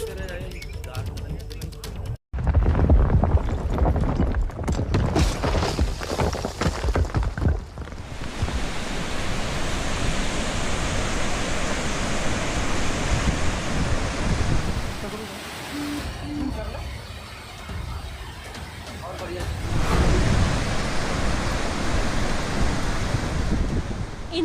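Roaring floodwater in Madhya Pradesh after days of heavy rain, a steady broadband rush with a sharp break early on, surging louder again toward the end.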